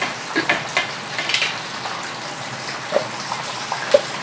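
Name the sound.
lechon kawali pork frying in oil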